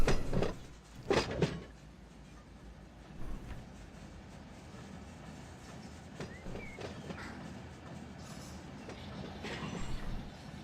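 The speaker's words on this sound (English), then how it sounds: "I love that slack running up in the train. You can hear it coming at you." A freight train in the Run 8 train simulator game, its slack running up through the couplers: loud metallic clunks and bangs in the first seconds, then a steady low rolling rumble with scattered fainter knocks.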